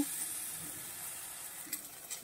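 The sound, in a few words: eggplant (brinjal) frying in a pan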